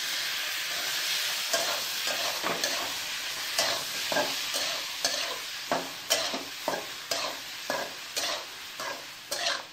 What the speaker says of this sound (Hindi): यहाँ है जो टमाटो मैंने चॉप करे हैं तो उनको डाल रही हूँ